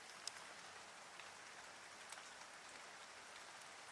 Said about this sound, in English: had some massive thunderstorms go through yesterday and then again today